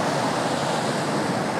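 Rising river water rushes steadily and loudly with a broad, constant roar and no pauses, heard alone without voices.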